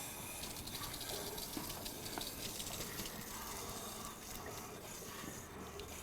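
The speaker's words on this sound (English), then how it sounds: "I got lots of clear water coming out." Water gushes steadily out of an RV water heater being rinsed, a loud continuous splashing hiss that holds even throughout.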